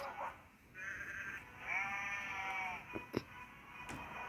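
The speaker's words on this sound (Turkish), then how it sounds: "Oğlum koyunlara eziyet mi lan köpek" Sheep in a video game bleat in a few drawn-out, wavering calls, fairly faint, followed by a couple of short clicks and thuds against a quiet background.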